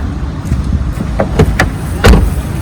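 Car doors on a 2012 Hyundai Elantra shutting and locking with the engine off: a few sharp clicks and thuds, capped by one solid, loud door slam near the end, over a quiet outdoor background.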